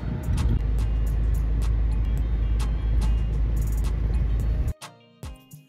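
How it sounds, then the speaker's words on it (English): Steady low road rumble from inside a moving car, a continuous engine and tire drone with faint clicks, cutting off near the end to a quieter cabin with a few brief knocks. "we're in Issa's car right now because Resh is getting his car fixed, the wheels"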